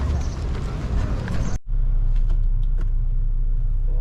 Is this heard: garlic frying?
no